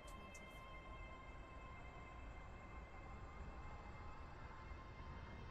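A Class 801 train rumbles along steadily in the railway game Stepford County Railway, a constant broad roar heard from on board, with a couple of faint short chimes at the very start.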